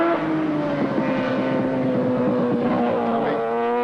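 A Norton rotary racing motorcycle, ridden by Trevor Nation, screams through Hall Bends toward the hairpin, its engine note loud and close with a steady high whine that shifts slightly in pitch as it passes.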